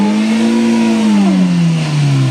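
Car engine revving hard while stuck on a potholed plantation road, loud and close, pitch holding then sliding down as the revs drop, no talk.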